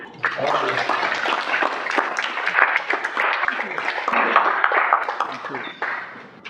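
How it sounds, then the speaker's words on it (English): An audience at the See Dai Doo Society 2024 ceremony honoring Chinese American WWII veterans applauds the ceremony committee with a dense, steady wash of clapping that holds for several seconds before tapering off. "How about a big round of applause to the committee?"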